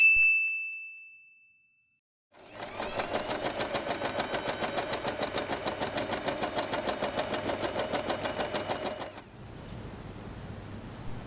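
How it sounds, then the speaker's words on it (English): A sewing machine stitches along a line through fabric for a small bow, running in a steady rapid mechanical whir for about seven seconds after a brief tone and silence, then stopping. "Sew along the line to secure the fabric in place."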